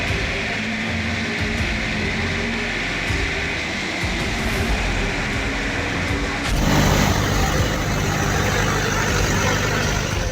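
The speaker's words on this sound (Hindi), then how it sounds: "अंडरपास में पुलिस की जीप फंसी, जिसे बचाने के लिए ट्रैक्टर को लगाना पड़ा।" A tractor engine strains as it pulls a police jeep stuck in a flooded underpass in Hamirpur after heavy rain. The deep rumble runs continuously and grows louder partway through.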